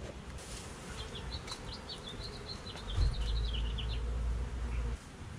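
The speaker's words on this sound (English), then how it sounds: "Looks like a lot of bees in here." A dense, steady buzz of many honey bees swarming close by during a honey harvest, joined by a low rumble partway through.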